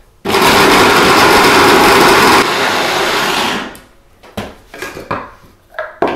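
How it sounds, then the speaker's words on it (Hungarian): A small food processor chops sausage for sausage-and-cheese pogácsa dough: a loud, close, high motor whir runs for about four seconds and drops in pitch partway through, then stops, followed by scattered clatter and knocks of the lid and bowl. "ráteszem a kis gépemre, és ezt egy kicsit összeaprítom"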